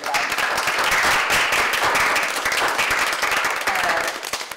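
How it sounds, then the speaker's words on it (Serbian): An audience at a book launch breaks into loud, dense applause that swells quickly, holds steady, then tapers off toward the end, with a faint murmur of voices mixed in. "pozdravite velikim aplauzom."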